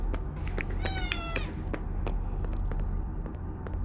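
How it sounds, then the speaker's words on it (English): A pet cat meows in a short drawn-out cry near the microphone, heard over steady background hum with soft clicks afterward. "Sorry, if you hear that, that's Mike the Cat."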